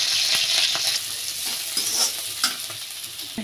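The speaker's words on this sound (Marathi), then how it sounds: "आपण यामध्ये टाकणार आहोत आता हिरवी मिरची।" Green chilli dropped into hot oil with cumin seeds sizzles and crackles steadily, with a close, continuous hiss and scattered pops and stirring scrapes throughout.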